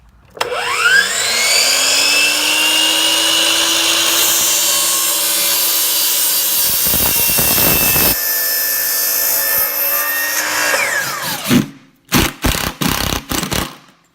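Power saw whines up and cuts steadily through a cedar shelf board for about eleven seconds, loud and close, then spins down, followed by several short bursts of cutting or trimming.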